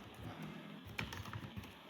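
Quick, light clicks of typing on a computer keyboard, close and fairly quiet, in an irregular rapid rhythm with a slightly louder keystroke near the middle.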